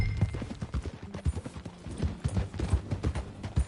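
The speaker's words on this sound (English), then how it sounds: "Get on your horse, John." Horse hooves clip-clop at a brisk riding pace in the Red Dead Redemption 2 epilogue, a steady close run of hoof strikes with no voices.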